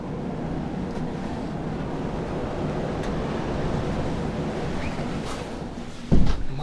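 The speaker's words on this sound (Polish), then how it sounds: "O kurde, ale wieje" Strong wind blows outdoors, a steady low roaring rush buffeting the microphone, with a brief louder thump near the end.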